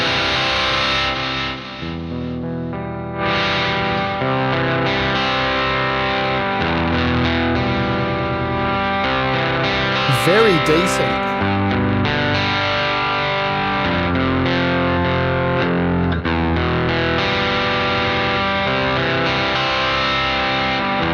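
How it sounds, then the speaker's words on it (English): Electric guitar through a fuzz effect in the Nembrini Jazz Chorus amp app on iOS, thick sustained distorted chords ringing loud and continuous for about twenty seconds, with a brief spoken comment partway through. "Listen to that fuzz, man."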